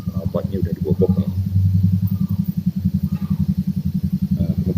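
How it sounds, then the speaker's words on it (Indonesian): A motorcycle with a modified open exhaust rumbles nearby in a steady, throaty low pulse that runs the whole time beneath someone talking. "ada motor lewat, knalpotnya udah dibobok ya."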